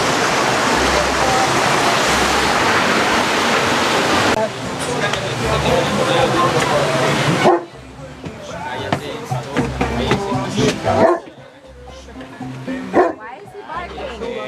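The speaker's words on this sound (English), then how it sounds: "Why is he barking?" A dog barks in short bursts at a beach brunch spot in Puerto Vallarta, Mexico, mixed with steady rushing surf-like noise and people talking nearby.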